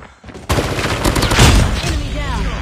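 A deployed sentry gun in COD Mobile opens fire, a loud sustained burst of rapid automatic gunshots kicking in abruptly after a brief quiet moment and rolling on to the end.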